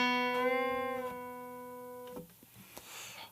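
A single picked electric guitar note is bent upward and then released back down to its starting pitch, ringing clearly before fading under a few faint handling noises.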